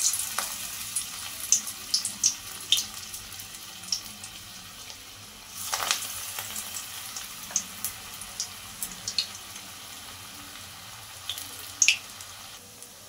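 Small coriander-leaf and red lentil pakoras frying in hot oil, a faint continuous crackle dotted with light pops and a brief louder bubbling surge midway.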